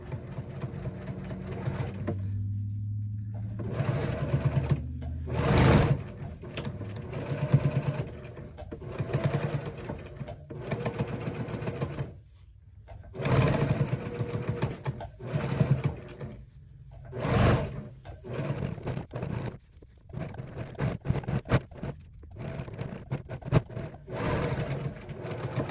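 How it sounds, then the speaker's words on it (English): Sewing machine stitching in the ditch around a log cabin quilt block, running in loud, close bursts of rapid needle chatter separated by short pauses and repositioning clunks, with no talking. "I'm just gonna peel it back and sew in the crack, and sew all the way around the crack."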